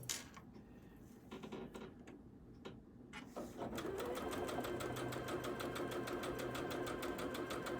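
A sewing machine runs quietly at first with a few short bursts, then settles into steady continuous rapid stitching along a quilt block seam, close and even in rhythm.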